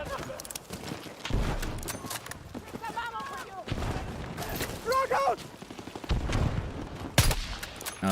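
Scattered rifle shots crack out in a Battlefield 6 sniping match, loud sharp bursts at irregular intervals amid battlefield noise, with a faint voice heard in between.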